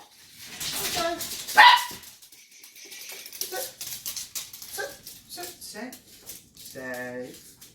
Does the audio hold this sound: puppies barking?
yes